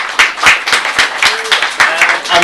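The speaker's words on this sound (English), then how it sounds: "Please some applause for Andris." A conference audience claps steadily in a loud, dense burst of applause welcoming a speaker, with a voice briefly audible underneath.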